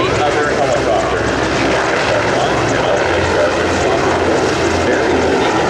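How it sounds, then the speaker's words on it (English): A CH-149 helicopter flies overhead at an airshow, its loud, steady rotor and engine roar filling the air continuously while a commentator speaks over it. "This design gives the CH-149 superior lift and speed and significantly less vibration than many other helicopters."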